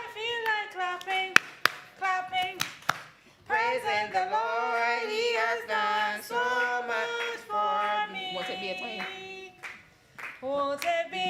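A church congregation claps along to a gospel song at a Sabbath evening service, with sharp, scattered hand claps cutting through loud group singing, clustered near the start and returning toward the end.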